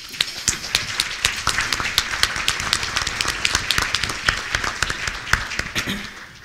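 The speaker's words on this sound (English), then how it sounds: "Let's give them a round of applause, please." An audience applauds board members at a 2018 State of the Village meeting, a steady patter of many hands with sharper individual claps standing out, sustained and fairly close throughout.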